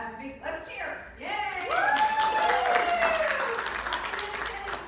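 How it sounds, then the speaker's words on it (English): An audience cheers and claps together during a Fourth of July celebration, the crowd noise swelling after a voice leads the call and holding steady at moderate distance. "That's a big, let's cheer. Yay!"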